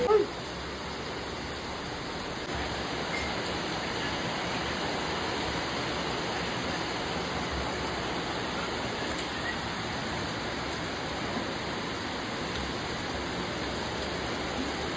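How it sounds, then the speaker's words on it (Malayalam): Steady, dense hiss of heavy rain pouring continuously, even and unbroken throughout, with no voices. "നല്ല മഴ"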